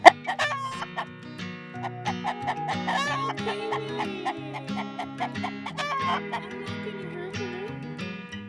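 A rooster on a homestead clucking in a series of close, clear calls with rising and falling inflections, over a background of music-like tones.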